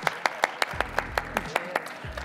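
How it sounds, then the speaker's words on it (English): Scattered applause from a small audience at an NBA Con anime panel, about a dozen separate loud claps spaced evenly across the clip, with a low voice murmuring underneath partway through. "Let's have a huge round of applause for our guests today."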